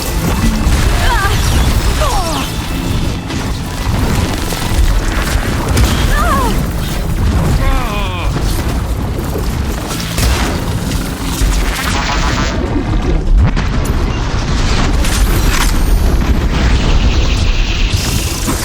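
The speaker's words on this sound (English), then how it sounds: "It's gonna explode." An explosion in the action game Horizon Forbidden West: a loud, dense, rumbling blast with crashing debris that fills the whole stretch, with game voices audible beneath the roar.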